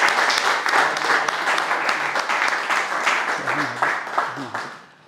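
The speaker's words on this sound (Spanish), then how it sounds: "Oye, un fuerte aplauso también para Francisco," A crowd at a book presentation gives a strong round of applause, with thick continuous clapping that holds steady before tapering off at the end while a voice begins to come through.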